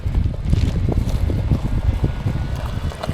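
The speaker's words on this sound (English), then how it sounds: "It's a bit windy." Gusty wind buffeting the microphone outdoors in the Eastern Alps beside a Land Rover, a loud, rumbling low roar that swells and dips continuously throughout.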